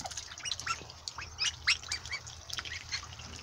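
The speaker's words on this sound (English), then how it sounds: "Yep, they're typical ducks." Young ducks, recently hatched and grown, outdoors around water, giving a scattered run of raspy quacks and squawks at close range, irregular and moderately loud over quiet background.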